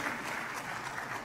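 A short, steady burst of applause from a small group on a podcast, a dense wash of clapping that holds even for just over a second with no voices.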